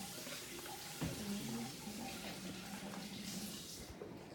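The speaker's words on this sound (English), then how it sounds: "let me wash my hands" Hands being washed under a running tap at a sink, a steady hiss of flowing water with splashing that rises briefly about a second in and continues throughout.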